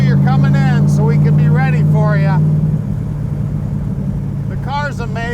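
A 1965 Shelby Cobra Factory Five replica's engine holds a loud, steady low rumble that rises and roughens as the car accelerates, with someone talking over it throughout.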